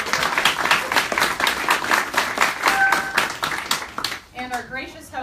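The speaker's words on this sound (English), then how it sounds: "Another round of applause." An audience at a charity hackathon opening presentation claps for the sponsors in a brisk, fairly rhythmic burst that fades after about four seconds as a speaker's voice returns.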